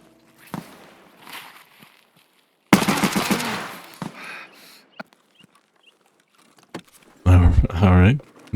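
Gunfire in the video game Escape from Tarkov, a loud sudden burst of rapid shots followed by a second harsh volley near the end, separated by quieter in-game sounds and a few faint clicks.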